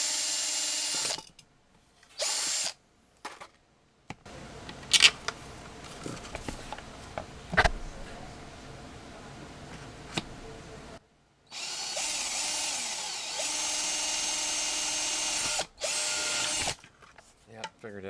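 A handheld power drill with a bit drives in short bursts and one longer run, loud and close, with pauses and quiet talk in between.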